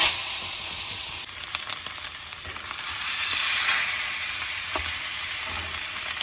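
A seasoned strip steak sizzling in an oiled pan, a loud continuous crackling sizzle with small pops, close and steady throughout.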